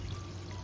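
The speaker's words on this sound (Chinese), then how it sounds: "加入清水，" Clean water poured into a pot holding about 1.5 kg of pork front trotters and smashed ginger with cooking wine, a short steady pour heard up close.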